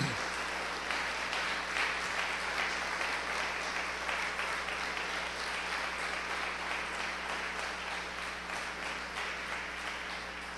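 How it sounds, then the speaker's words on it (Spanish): Congregation applause during a church sermon, a long dense wash of clapping filling the hall, steady and unbroken, gradually easing in loudness. "Le dan un aplauso al Señor."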